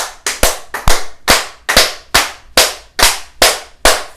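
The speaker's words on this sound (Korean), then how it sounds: "박수 10번 치겠습니다" Ten sharp hand claps, close and loud, come in a quick uneven rhythm during a breathing meditation session with body tapping, each clap a bright crack with a short tail.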